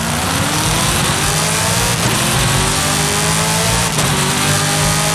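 A car engine in the video game Forza Horizon 5 drives steadily, a loud, sustained engine drone with rising and falling revs and brief dips at gear shifts, heard close and alone.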